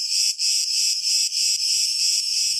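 Insects chirp in summer on Crete, a dense, continuous high-pitched buzzing trill pulsing slightly in rhythm, loud and close, with no voices.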